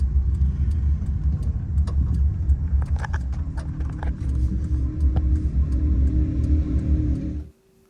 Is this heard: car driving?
yes